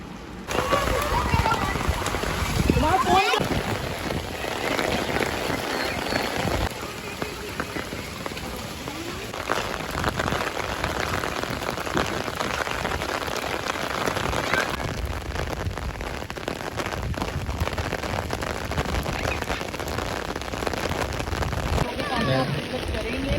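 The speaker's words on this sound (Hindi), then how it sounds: "बारिश खूब तेज़ हवा के साथ है," Heavy rain pours down steadily at night in a dense, hissing roar, with gusty swells of strong wind throughout.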